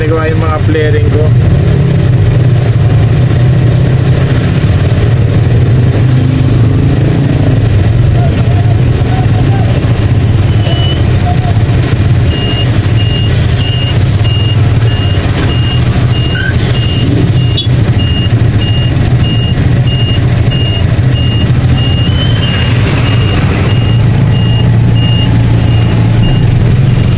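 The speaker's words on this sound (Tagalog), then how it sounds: "Gano'n ka traffic dito." A truck's reversing alarm beeps in a steady repeating pattern through loud, constant road traffic, with heavy engine rumble and passing vehicles throughout and voices faintly mixed in.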